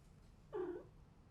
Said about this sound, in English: A cat.